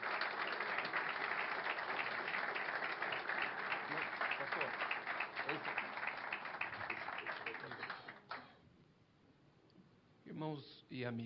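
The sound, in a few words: congregation applauding in church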